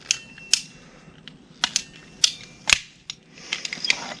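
A pipe cutter works through a greenhouse pipe, cutting it in half: a run of sharp, close metallic clicks and ratcheting snaps at an irregular pace, with a rougher grinding burst near the end.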